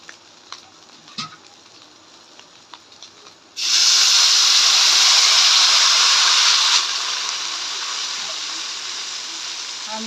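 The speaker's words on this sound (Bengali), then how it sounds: "এবার আমি পরিমাণ মতো জল দিয়ে দেবো" Water poured into a hot pan of fried rice and vegetables for khichuri sets off a sudden loud steamy hiss. The hiss holds for about three seconds, then settles into a softer steady sizzle after quiet light clatter.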